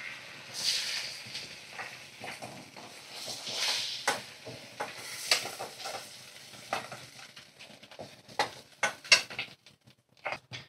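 Whole spices (cardamom, cloves and cinnamon) fry in softly sizzling oil in a pan while a utensil stirs and clinks against metal, with scattered sharp taps and crackles growing busier toward the end.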